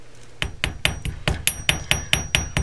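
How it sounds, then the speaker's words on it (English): A twisted wire holly-leaf Christmas pendant being struck with a nylon or rawhide jewelry hammer: about ten crisp, bright taps in a steady rhythm, close and fairly loud, with a faint metallic ring after each. "go ahead and tap it a few times, like I said, with the nylon hammer or the rawhide hammer"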